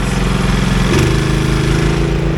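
Tractor engine running a corn planter, a loud, close, steady mechanical drone that steps up in pitch about a second in as the revs rise and then holds, with no voices.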